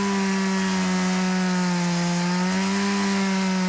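A Stihl MS-170 chainsaw runs steadily, a loud continuous engine drone with a strong buzzing tone throughout, nearby and without talk.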